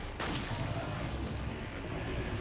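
Gunshots in the 2005 Resident Evil 4 video game: a sharp close shot at the start, followed by a dense, loud, booming rumble of gunfire and impact noise through the short stretch.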